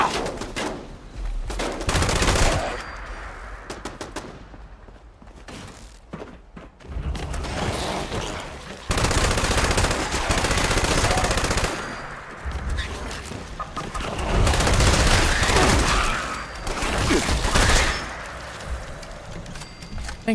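Rapid bursts of automated turret gunfire crackle repeatedly in Fallout 76, loud and close, with a player talking intermittently between volleys.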